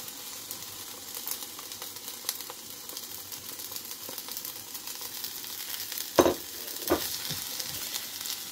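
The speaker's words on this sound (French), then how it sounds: "je vais faire revenir l'oignon jusqu'à ce qu'il devienne translucide" Sliced onion sautéing in clarified butter in a pan gives a soft, even sizzle, with two brief louder clanks of stirring near the end and no talking.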